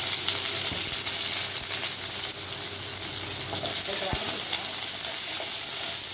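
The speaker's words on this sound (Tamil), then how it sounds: "வெங்காயம் போட்டு வதக்கிக்கலாம்." Onions and curry leaves sizzle and hiss in hot oil after mustard seeds have popped, close and continuous, with a couple of soft knocks from stirring.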